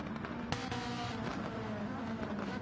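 A Volkswagen Beetle racing car driving on a circuit, its engine a steady, loud drone with a sharp burst partway through, the roar holding constant for the whole stretch.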